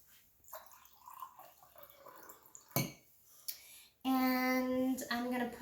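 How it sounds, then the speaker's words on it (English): Water poured into a container: faint trickles and drips, then a louder steady pour whose pitch shifts as the vessel fills, close and alone without talk. "I'm going to put water in this one."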